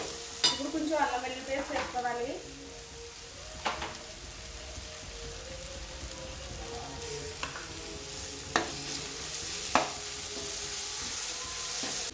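Cauliflower fries in a pan with a steady, close sizzle, broken by a few scraping stirs and clinks. A voice speaks briefly at the start.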